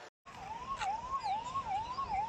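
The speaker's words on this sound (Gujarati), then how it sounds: "અહીંયા એમ્બ્યુલન્સના હોર્ન આપ સાંભળી શકો છો" An ambulance siren wails at a collapsed bridge rescue scene on the Gambhira Bridge in Gujarat, a repeating rising-and-falling tone, moderately distant and steady over road noise.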